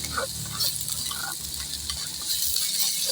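Ingredients for sweet and sour chicken sauté in a hot pan, a soft steady sizzle with occasional light stirring scrapes, fairly quiet and close, no talking.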